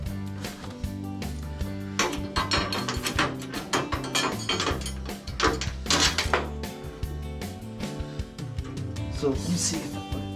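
A ratchet wrench loosens the saddlebag mount bolts on a vintage 1976 Harley-Davidson Shovelhead FLH, giving close, continuous rapid clicking with metallic knocks and shifting hardware throughout.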